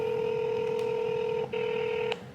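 Telephone keypad DTMF tones dialing an extension on an automated phone line, two clear steady tones held with a brief break between them, fairly quiet and with no talking.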